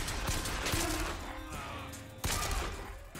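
Carbine fire in Bioshock Infinite, a few sharp shots cutting through dense, loud game noise and combat clatter, with no talking.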